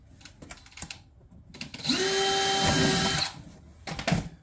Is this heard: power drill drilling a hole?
yes